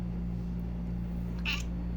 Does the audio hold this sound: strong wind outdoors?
no